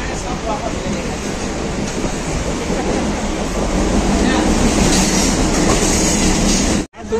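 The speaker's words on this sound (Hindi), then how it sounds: "अब हम लोग ट्रेन से जा रहे हैं।" A Mumbai local train is heard from inside the carriage. It gives a loud, continuous rumble with rattling clickety-clack from the wheels and carriage, with a brief dropout near the end.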